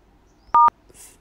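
A single iPhone keypad tone sounds while a code is dialed to unlock a hidden signal-strength mode, a short clean dual-tone beep, loud and close in an otherwise quiet room.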